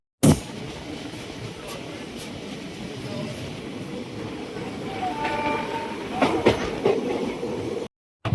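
A moving passenger train rolls along with a continuous rumble and clatter, heard from on board, with a few sharper clacks toward the end and faint voices in the background.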